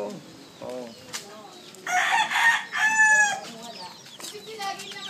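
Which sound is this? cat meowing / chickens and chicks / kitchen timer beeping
chickens and chicks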